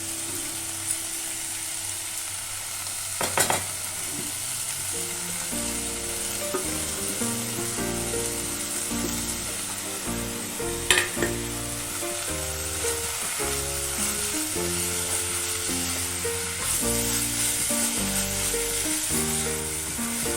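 Ground roasted cumin, coriander and dried red chilli with ginger fry in a pan, a soft steady sizzle under background music, broken by a couple of sharp clinks.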